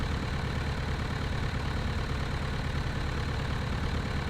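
Steady droning aircraft engine in Flight Simulator X, held at a constant throttle setting, continuous and fairly loud with no break or change in pitch.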